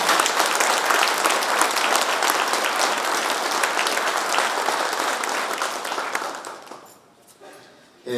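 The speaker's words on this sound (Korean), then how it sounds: "이중근 회장을 큰 박수로 맞이해 주시면 대단히 고맙겠습니다" A large hall audience gives a loud, sustained round of applause to welcome the new president of the Korea Senior Citizens Association at his inauguration ceremony, fading out near the end.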